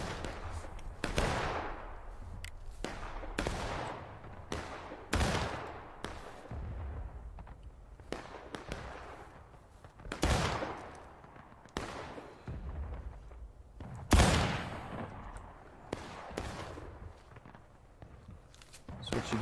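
Video game gunfire: single sharp shots ring out at irregular intervals, each with a short decaying tail, mixed with fainter thuds and footstep-like movement sounds, fairly close and moderately loud.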